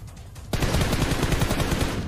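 A light machine gun in PUBG Mobile opens fire in a sustained rapid burst, loud and close, starting abruptly after a half second of quieter background.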